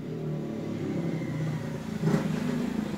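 A motorcycle engine drones steadily nearby, swelling briefly as it passes, then continuing at a constant hum.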